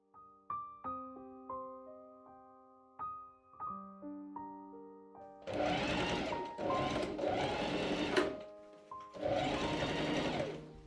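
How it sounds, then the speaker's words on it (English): A sewing machine stitches boning channels into corset seams, starting after soft plucked music tones; the machine runs in close, loud bursts of several seconds with short pauses between them, and no voices are heard. "I measure and machine sew boning channels into both sides of each seam, starting from the top."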